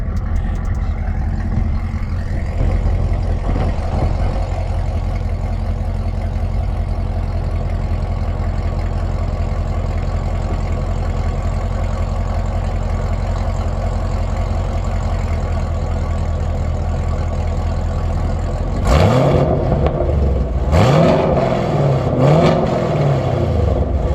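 A loud, rough engine of a modified Chevrolet Camaro ZL1 idles steadily for a long stretch, then revs up in a few quick throttle blips near the end.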